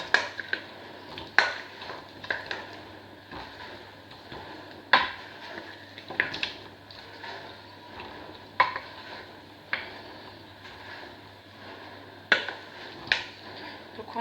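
Vegetables being spooned into a buttered gratin dish for a vegetable gratin make repeated sharp clinks and taps of a utensil against the dish, spaced irregularly over a soft background of wet shuffling, close and fairly crisp.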